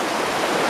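River water rushing steadily around someone wading across a river on a fishing trip in Indonesia, a close, even broadband wash with no talk over it.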